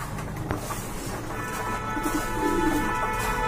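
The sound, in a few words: fancy pigeons cooing, restless for food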